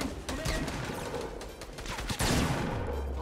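Rapid bursts of gunfire from a Fortnite battle royale match, loud and dense, with a sharper volley near the end and brief voices in the mix.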